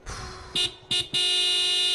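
A car horn honking in the video game Broken Sword 5, three bright toots, two short and then one held long, loud and close after a soft engine-like rumble.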